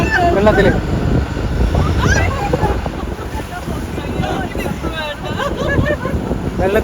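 Constant wind roar and water splashing surround a small boat bouncing and dipping over waves along the coast, while a person talks close by throughout.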